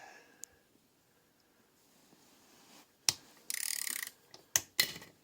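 Mercedes E320 CDI diesel injector hold-down bolt being overtightened with a torque wrench until it stretches, giving a few sharp close metallic clicks and a short ratcheting burst after a quiet stretch.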